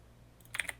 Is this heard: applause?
no